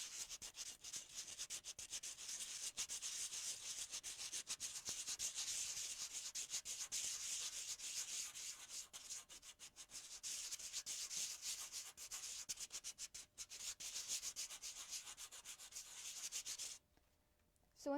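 Sandpaper rubs by hand in small circles over a decoupage project, a close, steady scratchy hiss that runs almost continuously before stopping near the end.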